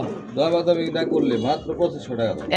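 A Black Lahori pigeon gives soft, warbling coos at close range, mixed with people talking nearby.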